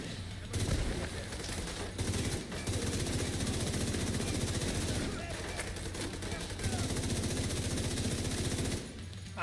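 Continuous rapid automatic gunfire in The Division 2 video game, loud dense bursts running almost nonstop for several seconds.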